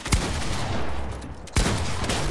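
Sniper rifle shots in a video game, two sharp cracks about a second and a half apart over a steady game-noise bed, with no voices.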